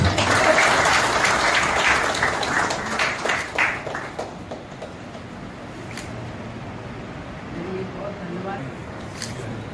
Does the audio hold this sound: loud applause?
yes